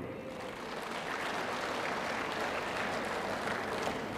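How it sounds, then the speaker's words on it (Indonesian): A church congregation at a worship service bursts into a dense, steady round of applause that holds for several seconds, broad and full with no talking over it. "Tepuk tangan jo tu ketua PPDON."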